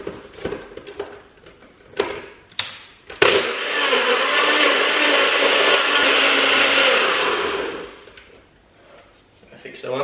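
A blender whirs loudly for about five seconds as it crushes six ice cubes in roughly 200 ml of water, preceded by clattering and knocking as it is set up, then winds down.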